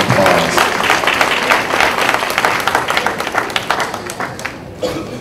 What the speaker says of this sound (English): let's give a Walker Chiropractic and Wellness Center another round of applause